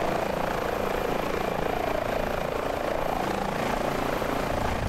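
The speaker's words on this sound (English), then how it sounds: "The H-145 is fairly easy helicopter to fly, in my personal opinion." An H-145 helicopter in Microsoft Flight Simulator during an offshore wind farm construction flight, a steady loud rotor and turbine drone with fast rhythmic blade chop, unbroken for the whole stretch.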